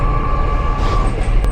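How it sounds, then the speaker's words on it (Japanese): A modern air-conditioned Hakodate streetcar rolls along its tracks, heard from inside as a loud, steady low rumble with a faint sustained whine and a brief squeal near the end. "八千頭の路面電車の駅にやってきました。 これに乗って駅の方向かいたいと思います。"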